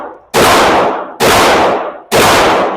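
Three loud, sharp Winchester rifle shots at a shooting range, each with a long decaying boom, fired at a steady interval of about one second.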